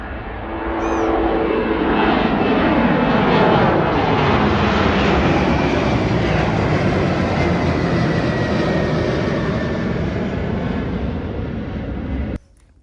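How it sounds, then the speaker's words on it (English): An aircraft engine at Speke airport runway roars loud and close for about twelve seconds, a sustained broad rumble that swells at the start and stops abruptly at the end. "Right, big day out at Speke Hall, watching the planes."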